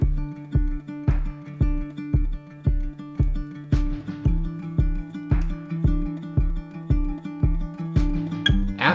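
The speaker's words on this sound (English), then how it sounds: "I then added some clap and snare accents with varying degrees of reverb" Clap and snare accents with varying reverb in a Logic Pro production, sitting over a steady, evenly pulsing chordal pattern, with sharp hits recurring regularly and some tails washing out longer, loud and with no voice.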